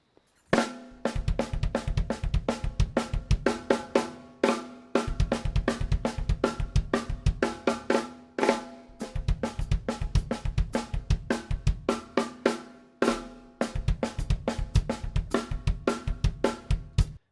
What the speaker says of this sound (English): snare kick, kick, snare kick, kick